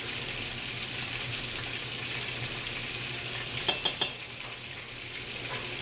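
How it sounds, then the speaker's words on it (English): A pot of dinner food being stirred over steady frying sizzle, with a few quick clinks of a utensil against the pot near the end, no talking. "I'm gonna stir that up."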